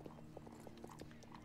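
Hoofbeats of a Chincoteague pony in a horse-riding video game, a steady clip-clop of repeated soft thuds at moderate distance over a low background hum.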